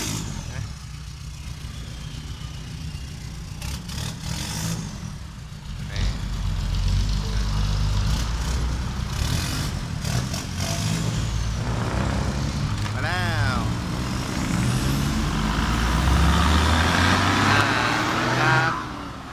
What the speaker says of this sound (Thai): ให้ฟังท่อที่เขาเบิ้ลอยู่นี่